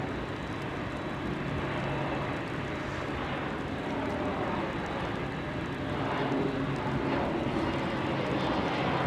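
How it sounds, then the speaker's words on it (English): A steady, broad roar of a distant aircraft auxiliary power unit starting at an Anchorage airport, constant whooshing noise with no talking and little change in level. "Sounds like an APU starting over there."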